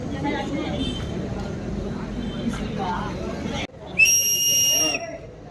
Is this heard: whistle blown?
yes